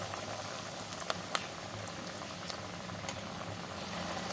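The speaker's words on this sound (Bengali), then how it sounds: "তেলটা গরম হয়ে গেছে সাদা তেল দিয়েছি এই যে তেলের মধ্যে ছেড়ে দিলাম একটা" A corn cutlet fries in hot white oil with dense, continuous bubbling and crackling, steady and fairly quiet, broken by a couple of small pops; no talking.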